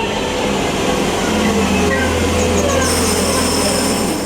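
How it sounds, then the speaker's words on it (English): A train rumbles loudly past close by at a railway station, a continuous heavy roll with metallic wheel squeals and whining tones rising over it. "Listen to that train."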